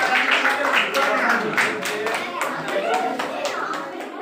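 Primary schoolchildren at a quiz in a classroom break into a burst of lively clapping that lasts several seconds, dense and close, with a few young voices chattering through it.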